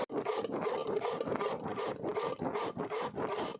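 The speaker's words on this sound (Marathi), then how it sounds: "भोपळा असा किसणीने किसून घेतला म्हणजे पातळ येतो चांगला" Bottle gourd is grated by hand on a metal grater for crispy gourd fritters. The sound is a rapid, rhythmic series of close rasping scrapes, about eight quick strokes, with no talk.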